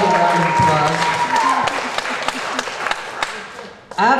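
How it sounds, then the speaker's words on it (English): An audience claps after a talk about a human rights case, a sustained round of applause that tapers off with scattered claps before a voice cuts in at the end. "that deserves a rousing round of applause"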